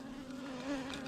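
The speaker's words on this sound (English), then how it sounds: "a couple of bees have got round the edge of the end" Honey bees hum around a top bar beehive in a steady, close buzz that swells slightly midway, with no voices over it.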